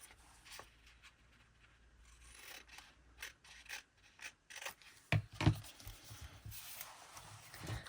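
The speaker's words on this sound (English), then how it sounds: "then just trim off any of the excess." Scissors trim excess paper from a junk journal page in a quiet room, giving a string of faint, close snips and soft paper rustles that grow a little louder toward the end.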